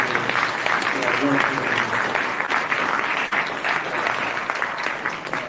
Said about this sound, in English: I do want to ask everybody to give a round of applause to all the employees